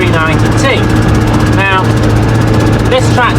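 A farm tractor's diesel engine runs at a steady low drone close by, while someone talks over it throughout with short pauses.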